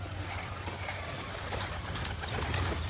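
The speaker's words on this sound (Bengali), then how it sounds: "কবুতর একটু ভয় করছে কারণ বেশ কিছুদিন ধরে খাবার দেওয়া হয়নি" Pigeons gather to be fed, soft cooing and faint wing movement sounding close by over a low steady background hum, with no talking.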